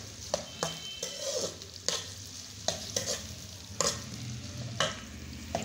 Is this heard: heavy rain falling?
no